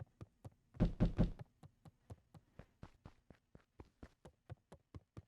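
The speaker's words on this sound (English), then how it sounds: "There's a noise, there's a knocking." Knocking in the Beacon Pines video game, a long run of crisp hollow taps at a steady rhythm, with a louder burst of heavy raps early on and quieter knocks continuing alone after it.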